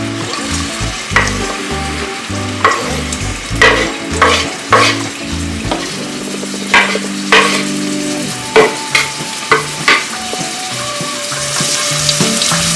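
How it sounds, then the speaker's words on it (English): Chopped onions hit hot olive oil in a pan, giving a steady loud sizzle with repeated scraping and stirring strokes in a home kitchen. "now the oil is hot. Yes, we put the chopped onions inside."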